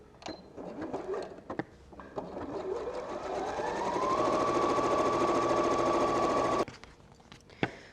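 A sewing machine stitches a Christmas stocking, starting with a few clicks and short bursts, then running steadily for several seconds before stopping, followed by a sharp click.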